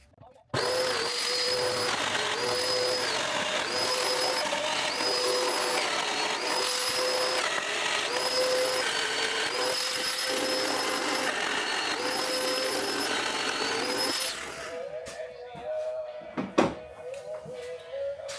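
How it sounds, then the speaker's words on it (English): Domino joiner cutting mortise holes in oak table parts on its wide setting, a steady loud whining motor running continuously for about fourteen seconds before stopping, followed by a few quieter knocks and handling sounds. "Put our domino holes in, and I'll be using the wide setting for this so I get maximum movement."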